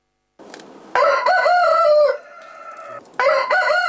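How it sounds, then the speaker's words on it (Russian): A rooster crows loudly and close, two long drawn-out calls with a short pause between, from a collection of about thirty chicken breeds that includes fighting cocks. "весь день окрестности оглашает петушиное пение всех оттенков"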